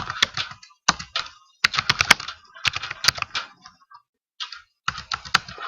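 Fast typing on a computer keyboard while entering router configuration commands, bursts of crisp key clicks with short pauses between, close and clear with no talking.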